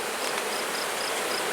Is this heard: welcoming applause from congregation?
no